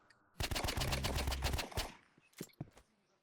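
A rapid burst of automatic gunfire in a Roblox Rivals video game rattles out, followed by a few scattered single shots, all crisp and fairly close.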